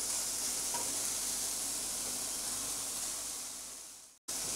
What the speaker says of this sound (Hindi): अब इसके अंदर डाल देंगे चिकन।